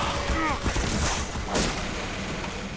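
Gunfire and a death sound effect from Team Fortress 2, with a heavy's spun-up gun and a destroyed turret, arrive as busy bursts of shots and booms across a continuous dense game mix.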